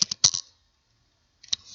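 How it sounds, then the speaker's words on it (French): Quick clicks of a computer keyboard as a router command is typed: a short burst of several keystrokes, a long silent pause, then a few more taps, close and crisp with no talking. "je tape la commande IP route"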